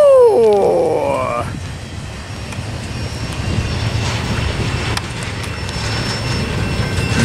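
A long freight train climbing the Tehachapi grade, a steady broad rumble of wheels and engines running throughout, with a brief horn-like tonal blast at the start before the continuous rolling roar carries on at a fairly close distance.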